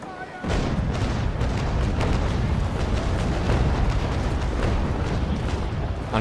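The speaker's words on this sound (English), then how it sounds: "Unfortunately missed most of my broadside there." A ship's cannon broadside in the naval sailing video game Naval Action, opening with a sudden heavy boom that rolls into a sustained rumbling barrage of overlapping cannon blasts, loud and continuous to the end.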